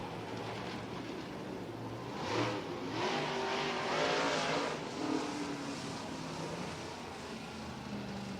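Dirt track race cars rumble around the oval during a heat race at the Louisiana Dirt Track State Championship, engines swelling and fading as the pack passes, steady and fairly loud with no talk.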